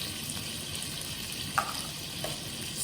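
Chopped carrot pieces frying in a pan, a steady soft sizzle throughout with a couple of brief scraping stir clicks near the middle.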